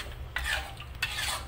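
Chicken rendang being stirred in a pot with a utensil, two scraping strokes of stirring against the pot over a low background hum, close and fairly quiet.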